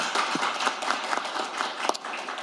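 Audience clapping at a Korean policy forum on fuel regulations, welcoming a National Assembly member to the podium; moderate, steady applause from a seated crowd in a hall, without talk.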